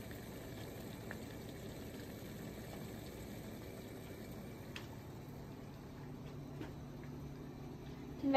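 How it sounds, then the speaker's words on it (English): Water boiling in a pan set directly on hot electric stove coils, a soft, continuous bubbling hiss with occasional faint pops, fairly quiet and alone. "The coils are touching the pan, which is making the water boil."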